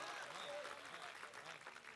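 Applause from the audience at a poetry recital, dense and fairly distant clapping that holds steady and then thins slightly toward the end, with faint voices underneath.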